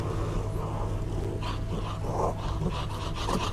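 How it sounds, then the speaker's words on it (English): In the video game Inmates, a low dog-like animal growls and pants in a steady, moderately close rumble with a few rough bursts, no talking over it. "That really sounds like a dog or something."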